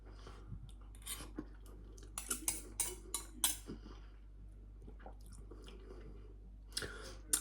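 Someone eating cheesy baked beans from a frozen ready meal, with close, faint chewing and soft cutlery clicks in irregular bursts over a steady low hum.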